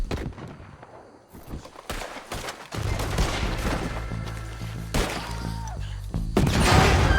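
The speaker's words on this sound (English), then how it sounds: "I'll riddle you with bullets!" Gunfire in the Red Dead Redemption 2 western video game during a liquor store robbery shootout: repeated sharp shots and bursts build into a dense, loud volley, with crashing impacts mixed in.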